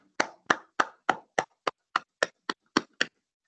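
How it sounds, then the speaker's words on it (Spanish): Eleven sharp, evenly spaced claps ring out in a steady rhythm, a single person or small group applauding at the close of a Spanish-language university debate tournament final, with no voices over them. "Creo que os merecéis todos un fuerte aplauso por el gran debate que habéis hecho."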